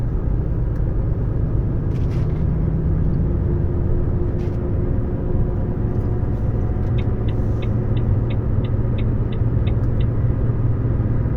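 A car drives through a small tunnel in Italy at about 60, a constant loud low road rumble and engine drone. A series of regular short ticks runs through the second half.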